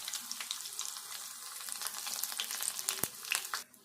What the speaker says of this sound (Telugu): ఇప్పుడు తాలింపు ఇట్లా వేగినాక ఎల్లిపాయలు, ఎండుమిర్చి కూడా